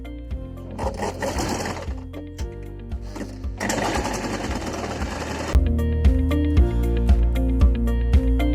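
A sewing machine stitches a shoulder seam at the neckline in loud, fast mechanical bursts, pausing briefly between runs before a long steady run of rattling stitches at the end.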